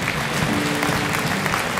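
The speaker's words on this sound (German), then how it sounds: "Einen großen, großen Applaus" An audience at a pensioners' Christmas party applauds, a dense, steady, loud clapping that continues throughout without voices.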